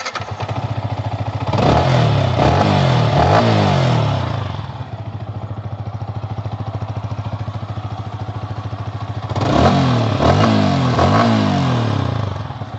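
A motorcycle engine idles loudly up close with a steady chugging beat, revving up twice in strong surges before dropping back to idle.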